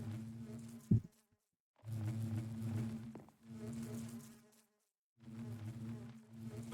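Bees buzzing in a modded Minecraft game: several short droning buzzes with gaps of silence between them, fairly quiet and close, with no talking.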